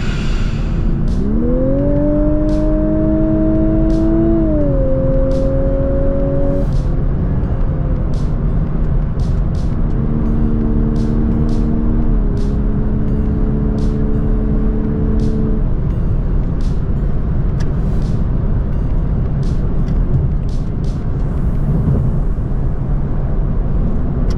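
A Lexus LC500h hybrid coupe accelerates hard on a motorway, its engine note climbing through two long rising pulls over a constant loud rush of road and wind noise, heard from inside the car.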